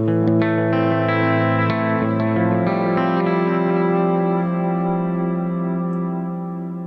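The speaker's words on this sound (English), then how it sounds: "this neural DSP sounds so good" An electric guitar runs through a Neural DSP amp modeler, ringing out sustained, saturated chords with effects that fade slowly, loud and alone without talk.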